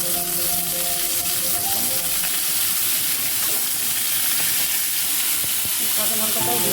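Ginger garlic paste and small shrimp fry in hot oil, a steady close sizzle and hiss that fills the whole stretch, with faint background noises but no clear talk.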